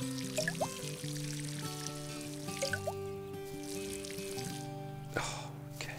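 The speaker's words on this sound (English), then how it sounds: "I need a bigger watering can." A watering can pours water onto plants in Garden Simulator, a soft trickling pour heard under game music with small clicks and chimes.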